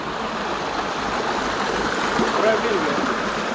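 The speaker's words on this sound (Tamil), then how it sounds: "அந்த தண்ணியோட சவுண்டு பாருங்கள்," A stream of water flows under a bridge near Yercaud, a steady broadband rushing wash with faint gurgles, and someone speaks faintly over it.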